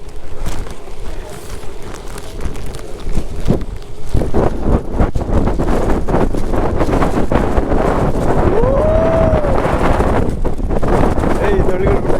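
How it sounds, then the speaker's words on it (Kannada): Gusty monsoon wind in the hills of Chikmagalur buffets the microphone in loud, rough bursts throughout, with voices talking over the roar. "ಲಿಟ್ರಲಿ ಗಾಳಿ ಜೋರು ಐತೆ"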